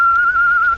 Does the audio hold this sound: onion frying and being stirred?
no